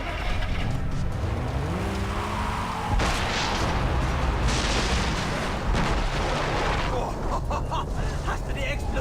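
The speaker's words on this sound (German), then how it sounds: "Hast du die Explosion gesehen?" Far Cry 3 gameplay rumbles with a heavy, sustained roar of blast and engine noise filling the whole stretch, with a sudden surge partway through and talk over the top.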